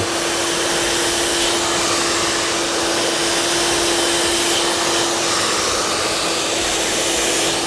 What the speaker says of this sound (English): So all we're doing now is literally blow drying the hair all the way forward to where it naturally sits